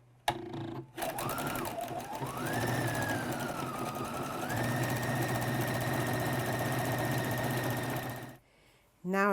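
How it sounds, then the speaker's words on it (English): A close sewing machine runs steadily for about seven seconds, stitching a straight seam in microfibre fabric for a make-up remover mitt, with a rising whine as it gets up to speed before stopping abruptly. "Now I'm going to sew in a straight line 1/2 centimetre from the cut edge all the way down."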